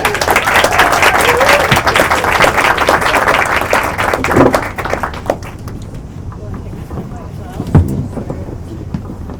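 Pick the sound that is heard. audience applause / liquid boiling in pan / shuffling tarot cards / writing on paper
audience applause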